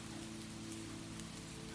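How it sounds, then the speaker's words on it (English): Rain falls steadily outside a forest cabin, a soft, even patter and hiss that carries on without a break at low volume, with no voices. "Outside, rain continued to gather strength."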